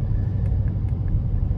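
Ford Raptor R truck exhaust in sport mode, a deep steady low-pitched rumble idling close by with a constant drone and no voices.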